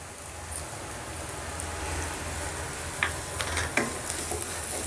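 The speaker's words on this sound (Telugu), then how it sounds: "కొంచెం అల్లం వెల్లుల్లి పేస్ట్ పచ్చివాసన పోయేంత వరకు ఫ్రై చేసుకోవాలి" Ginger garlic paste frying in a pan, a steady close sizzle with a few sharp spatters and crackles toward the end.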